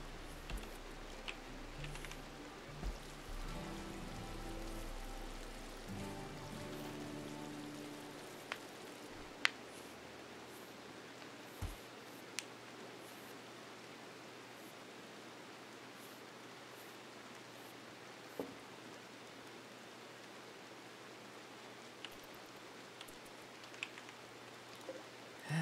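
Steady rain ambience from the video game RimWorld hisses evenly for a long stretch at night, with a low drone fading early on and occasional faint ticks, no talking.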